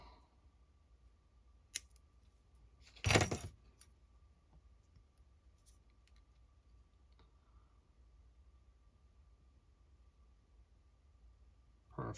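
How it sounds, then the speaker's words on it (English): Scissors give one sharp, close snip while trimming frayed rigging thread on a 1:96 Revell U.S.S. Constitution model ship, with a few faint ticks and clicks around it in an otherwise quiet room. "just trim the fray off."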